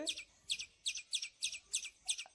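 A small bird chirps in a steady series of about seven short, high, bright tweets, evenly spaced and fairly close, with no talking over them.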